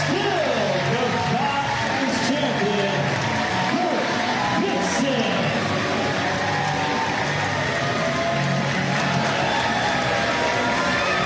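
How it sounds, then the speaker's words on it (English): A capacity crowd roars and cheers at a Defy Wrestling match inside Washington Hall, a loud, continuous wall of shouting and whooping with a commentator talking over it throughout. "Capacity crowd on its feet here tonight inside Washington Hall"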